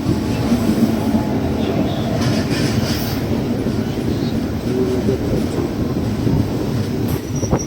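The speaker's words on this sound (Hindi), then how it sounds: "इधर से कोई ट्रेन भी आ रही है, पता नहीं कौन सी ट्रेन है, पैसेंजर है शायद कोई।" A passenger train on an Indian railway line near Coimbatore rumbles past with a continuous loud roll of wheels and clattering carriages, heard close from a moving sleeper-class coach, with a faint squeal near the end.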